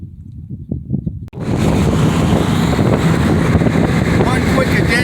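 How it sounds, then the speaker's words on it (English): Gusty outdoor wind buffets the microphone, kicking in abruptly after a quieter low rumble and then roaring loud and steady to the end, at a roadside crash site. "It's kind of windy out here."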